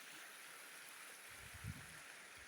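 A river flows steadily behind the speaker outdoors, a constant broadband rush of water with a few low gurgles, heard alone without talk.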